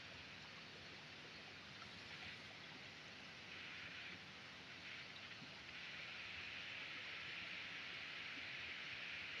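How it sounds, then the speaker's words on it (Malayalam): Steady, dense hiss of rain falling without pause, fairly close and even in level, with no voices. "നല്ല മഴ പിടിച്ചിട്ടുണ്ടേ"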